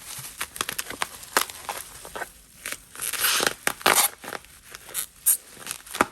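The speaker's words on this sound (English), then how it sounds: "So let's open this up. They used a lot of tape this time." Package sealed with lots of tape being opened, a close run of tearing, crinkling and scraping bursts with irregular rips and rustles throughout.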